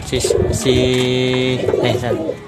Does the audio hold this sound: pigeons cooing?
yes